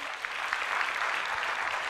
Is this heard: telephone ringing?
no